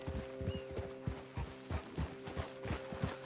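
Horse hooves clip-clop steadily in Red Dead Redemption 2 near a lakeshore, a brisk, even rhythm of close, moderately loud hoofbeats with a faint background hum.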